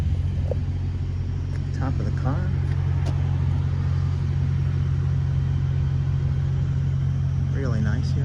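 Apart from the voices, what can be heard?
1972 Pontiac GTO engine running, Weber 4-barrel carb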